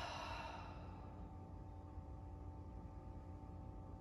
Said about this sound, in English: Big breaths here.